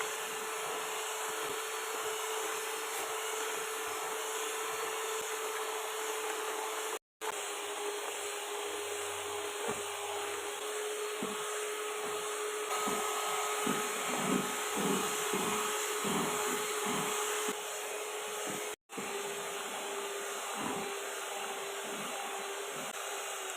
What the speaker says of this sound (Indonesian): lalu ini kita mixer dengan speed paling tinggi sampai putih kental berjejak